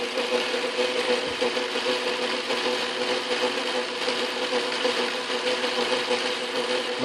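Steady, even machining drone from a 1947 Wards Logan lathe taking a dry cut on pipe, a constant whirring hum with a faint metallic hiss throughout, close and unbroken, with no voices.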